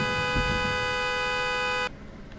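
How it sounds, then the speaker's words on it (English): A car horn honks in the DayZ video game on PS4 Pro as a panicking character drives, one steady sustained blare lasting nearly two seconds before cutting off sharply, loud over a low engine rumble. "I like how the character honks on the horn when it panics"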